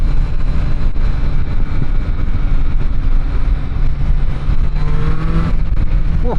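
A Triumph Street Triple 765 RS Moto2 Edition motorcycle accelerates at partial throttle: a loud, continuous engine drone heard from the rider's position, mixed with heavy wind rush, with a rising tone near the end and no speech.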